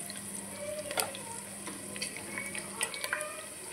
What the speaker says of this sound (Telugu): ఆయిల్ వేడెక్కింది కదండి, మనం పచ్చిమిర్చి వేసేసుకుందాం. ఇందులో కొంచెం జీలకర్ర వేసేసుకుందాం.